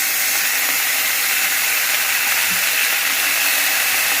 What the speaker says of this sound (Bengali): কড়াইতে তেল দিয়েছিলাম, গরম হয়ে গেছে। এবার মাছগুলো ছড়িয়ে ছড়িয়ে দিই।